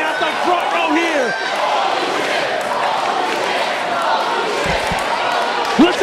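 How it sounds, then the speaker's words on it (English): Wrestling crowd at a Pro Wrestling Unplugged show roars steadily throughout, a dense sustained arena din with whistles and shouts, loud and continuous, a few sharp thuds near the end. "Listen to this crowd getting behind Trent Acid and his crazy maneuvers here"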